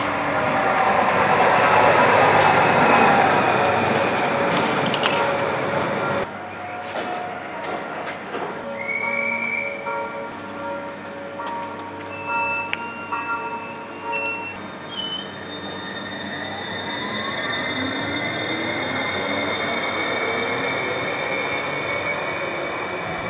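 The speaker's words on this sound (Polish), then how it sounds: "Dzień można nagrać odjeżdżające pociągi i przyjeżdżające." A modern train rolls past with broadband rumble and metallic wheel squeals, tonal whines rising near the end, loud and close with no talking.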